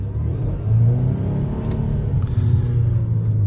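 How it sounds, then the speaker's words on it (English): A Volvo S90 accelerating hard on a snowy road, its engine revving in a loud, steady droning rumble that rises and holds for the whole stretch with no talking. "let me put my foot down and see what the traction control light does"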